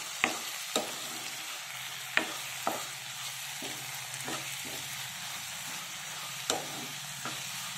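Tomato masala for drumstick curry cooking in a pan, a quiet continuous sizzle punctuated by a regular series of sharp spoon clacks as it is stirred, close by with no talking.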